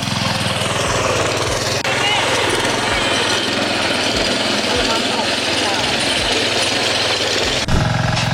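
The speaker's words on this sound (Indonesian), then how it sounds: "FTI 2010DE ini adalah traktor 4 roda mini, ya." FTI2010DE mini four-wheel tractor, third generation, plowing sloped farmland: a steady, loud engine drone with rough rhythmic knocking and vibration running throughout, briefly interrupted near the start and again near the end.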